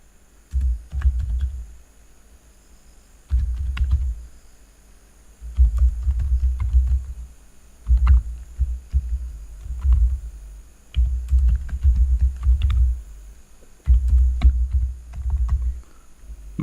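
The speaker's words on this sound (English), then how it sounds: "after you have typed this command, press enter." Command being typed on a computer keyboard: close, irregular clusters of soft key clacks in bursts separated by brief pauses, with no voice over them.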